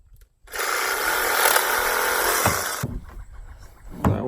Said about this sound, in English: I'm just cutting my marks where I'm going to put the T's in for my braces